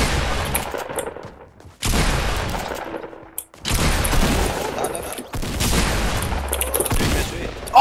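Gunfire in the Fortnite Battle Royale duo mode, several loud bursts of rapid shots separated by brief lulls, close and dominant, with occasional voices underneath.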